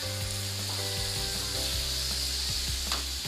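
Black chickpeas hitting hot oil and masala in a pan, giving a loud, steady sizzle and fry with stirring scrapes and a few light knocks, no voices.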